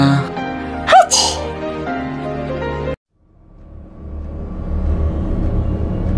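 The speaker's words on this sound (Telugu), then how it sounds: "అందుకనే తుమ్ము వచ్చింది" A woman's single sharp sneeze bursts out near the start over a steady background of rural drama underscore, followed by an abrupt cut to near silence and a slowly rising low rumble.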